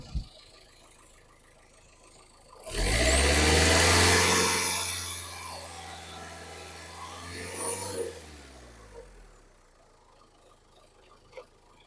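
A 2018–2019 Renault Duster RXS diesel engine starts up and runs with a steady low rumble for several seconds, then winds down, leaving quieter background noise; no talking.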